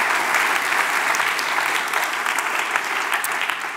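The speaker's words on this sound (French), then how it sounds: "On les applaudit." Audience applause for a finalist at a thesis-in-180-seconds final in Switzerland, a loud, dense, steady clapping from a large crowd that tapers slightly at the end.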